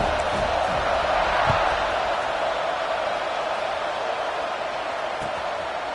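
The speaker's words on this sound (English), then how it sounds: "this crowd is feeling themselves after that last drive." Steady stadium crowd noise from a college football video game with TCU at UCLA swells as a dense, continuous roar of cheering, loud and even throughout.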